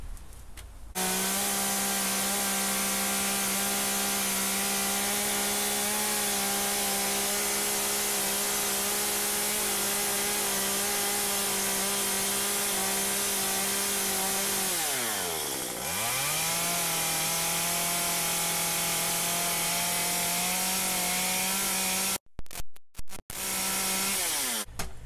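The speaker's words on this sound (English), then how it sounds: "carving a bear with a chainsaw is stinking cool" A chainsaw carving a small wooden bear runs at a loud, steady whine, dips sharply as the engine bogs down in the wood and then revs back up, and cuts out abruptly near the end.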